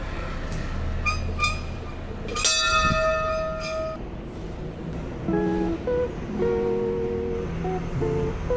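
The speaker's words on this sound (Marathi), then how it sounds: "मोठी घंटा आहे." A large bell at the temple of Janardan Swami Maharaj is struck once and rings out with a long, bright, humming tone, followed by softer, lighter chime tones in a reverberant space.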